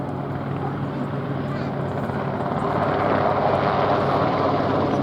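A Westland Wessex helicopter, a former Royal Navy and RAF workhorse, flies at a Shuttleworth air display, its rotor and engine a steady, loud, continuous roar that swells slightly partway through.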